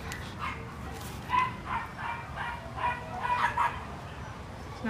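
A small two-year-old male dog at a shelter gives soft, faint yips and whimpering barks in a short irregular series over a steady background hum.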